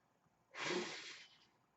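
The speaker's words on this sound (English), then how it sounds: "let me just take a deep, strong exhale out" A single deep, strong exhale from a person, a loud close breathy rush of air lasting under a second and tapering off into quiet.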